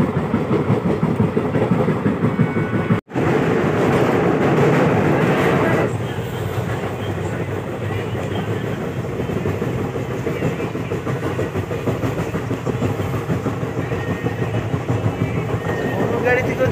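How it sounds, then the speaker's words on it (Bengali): A train running toward Bhubaneswar, heard from on board as a steady loud rumble of the carriage with rhythmic wheel clatter and a brief dropout, while a voice talks. "ভুবনেশ্বরের দিকে ছুটন্ত এই ট্রেন"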